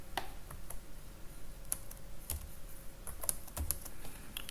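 Code is typed on a computer keyboard in quiet, uneven bursts of clicking keystrokes, with a few sharper taps standing out and no speech.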